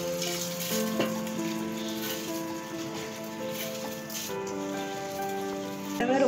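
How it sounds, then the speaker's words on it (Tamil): Soaked rice tumbles into a pot of cooking mutton biryani, making a steady sizzling, rain-like hiss that runs throughout at an even, close level with no talk. "அரிசி உள்ள போட்டுறேன்."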